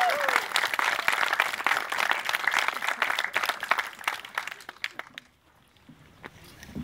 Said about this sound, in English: It's a recent phenomena that people clap for farmers.